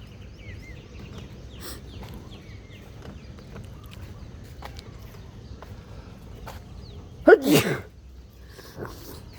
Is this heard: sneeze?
yes